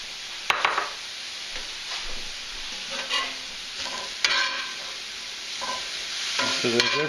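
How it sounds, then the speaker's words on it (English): Bacon grease sizzles steadily in a pan, a tablespoon or two of it, while a utensil stirs and scrapes, giving a few sharp clinks over the continuous crackle. The sound is close-up with no talking. "I'm going to put just a little bit of bacon grease back in there."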